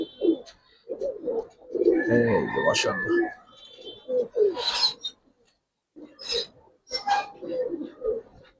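Stone-eyed pigeons coo repeatedly nearby in low, rolling bursts, with someone speaking briefly and some scratchy rustling between calls.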